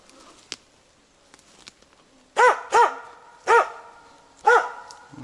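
A dog in a forest barks four times in close succession, loud and fairly near, after a stretch of quiet with a few faint clicks and rustles.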